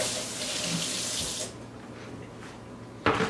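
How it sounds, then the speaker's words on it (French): A lemon is washed under a running kitchen tap: a loud, close rush of water for over a second, then a quieter trickle, then a second strong gush. "je vais nettoyer le citron évidemment"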